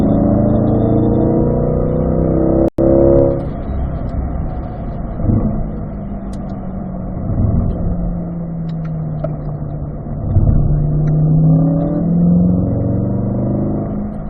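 A 2020 Corvette Z51 engine pulls steadily under throttle on a race track, its pitch sweeping and rising through the gears, with a sharp click near the start.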